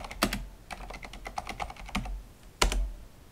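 Commands are typed on a computer keyboard at a Windows 10 prompt, a quick uneven run of light key clicks with a few louder taps, one sharp press near the end, and no speech.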